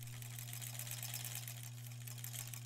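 An embroidery sewing machine stitches a tote bag with a steady low hum and fast rhythmic needle chatter, quiet and continuous with no voices.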